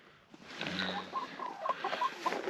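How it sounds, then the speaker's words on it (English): Pet backyard hens on a small farm in extreme winter cold cluck softly and repeatedly, several short murmuring calls close by with a faint background hum. "We've got some hens that give us eggs, and they're pets"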